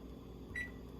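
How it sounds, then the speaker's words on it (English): A kitchen microwave oven gives a single short electronic beep as its timer is set, faint and brief against a low appliance hum. "Now I'm gonna set my time here on my microwave"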